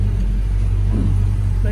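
A 1964.5 Ford Mustang convertible moves slowly, its engine giving a low, steady rumble that runs close and continuous throughout, with faint talk in the background.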